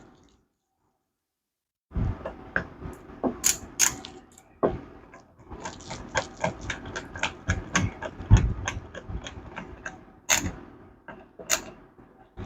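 Grip panels being fitted and screwed onto a CZ TSO pistol: a close series of small metallic clicks, scrapes and ratcheting taps at an irregular pace, preceded by a brief silence.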